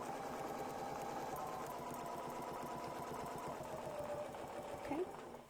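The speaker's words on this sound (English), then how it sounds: "So let's go ahead and we'll sew this one." A sewing machine stitches a quilt block seam with a fast, even mechanical chatter, steady and fairly close, slowing briefly near the end, with no talk.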